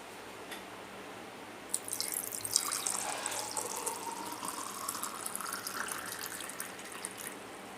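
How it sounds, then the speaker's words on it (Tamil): Gooseberry juice poured into a glass, a close, steady liquid trickle and splash that begins about two seconds in and continues to the end, with no talking. "இப்போ நம்ம ஒரு கிளாஸுக்கு ஊற்றிக்கலாம்."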